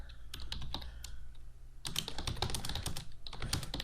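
Rapid typing on a computer keyboard while entering text in a word processor, close and crisp with bursts of clicky keystrokes, a brief pause, then a denser run of keys, with no voices.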